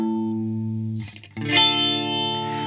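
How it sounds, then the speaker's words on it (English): Tokai Stratocaster electric guitar played through distortion and chorus effects with a jangly 12-string flavour, sustained chords over a backing track, loud and bright with a brief dip midway. "There's even a little bit of 12-string sound, although the guitar on this track was a Tokai Stratocaster."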